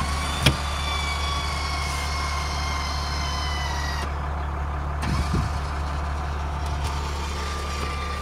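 A supplemental brake unit in a motorhome cycles through its setup mode with a few short clicks and pneumatic puffs over a steady low engine rumble, sounding near and moderate in level.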